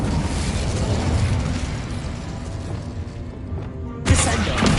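The Incendio fire spell explodes in Hogwarts Legacy combat, a loud rumbling burst of fiery noise among ongoing battle effects, ending with a sharp bright blast.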